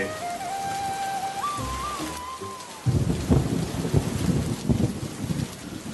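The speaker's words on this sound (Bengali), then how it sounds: "কি ঝুম বৃষ্টি পড়ছে রে।" Steady heavy rain pours down, growing denser and louder partway through, with a faint whistling tone early on.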